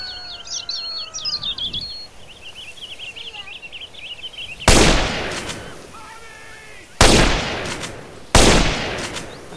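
Three loud, sharp sniper rifle shots from a weapon mod in GTA San Andreas, spaced a couple of seconds apart, each with a ringing tail, following chirping birdsong from the game ambience.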